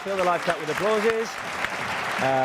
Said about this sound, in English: round of applause for the players taken off